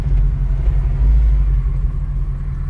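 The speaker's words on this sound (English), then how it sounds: "just 500 RPM, idling, nothing crazy." Loud, steady low rumble of a 1970 Chevy C10 truck's LT4 engine idling close by at about 500 RPM, even and unchanging throughout.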